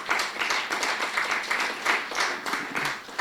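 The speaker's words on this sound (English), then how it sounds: "That applause is for you also" Steady audience applause at a memorial evening gathering, a dense continuous patter of many hands clapping together, fairly close and even in loudness throughout, with no talk over it.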